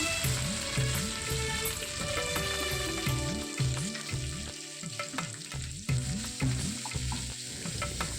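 Ground coconut paste fries in coconut oil for avial and thoran, a dense steady sizzle under a rhythmic series of spatula scrapes stirring the paste close by.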